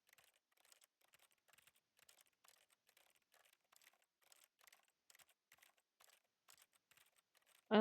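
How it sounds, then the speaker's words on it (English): Quiet, rapid clicking in the video game The Stanley Parable, like keys or a mouse being tapped repeatedly in uneven bursts, ending in a sudden louder thump. "I like the clicking noises."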